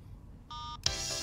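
A phone gives a short electronic button tone, then a brighter, louder burst of sound starts right after it.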